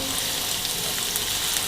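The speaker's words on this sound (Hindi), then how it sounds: "थोड़ा सा प्याज को ऑयल के अंदर फ्राई करेंगे।" Onion fries in oil, a loud, dense, unbroken sizzle heard up close.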